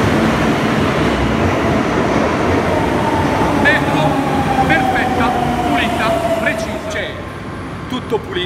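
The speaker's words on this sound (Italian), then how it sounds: "Qui siamo all'interno del vagone metropolitana linea 10" Riding inside a Madrid metro line 10 train car, a loud continuous rumble and rail roar fills the carriage while a person talks over it and a rising whine builds as the train moves.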